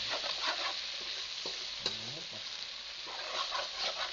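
Sweet and spicy hotdogs sizzle in a pan as a utensil stirs them, giving a close, continuous crackle with scraping strokes and a sharp clink near the middle; no speech.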